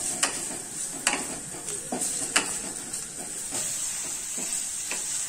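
Onions frying for chicken curry are cooked down into crisp browned beresta, hissing steadily in a pan while a spoon stirs them with rhythmic scrapes and taps. The sound is close and nobody speaks.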